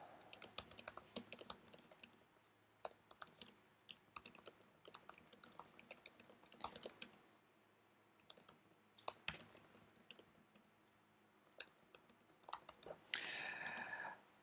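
Typing on a computer keyboard, irregular bursts of quick clicky keystrokes with short pauses between, close and fairly quiet, with no talk.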